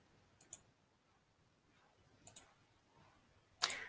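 Computer mouse clicks while deleting a ransomware file: a few faint, sharp clicks spaced apart in a quiet room, with a louder click burst near the end.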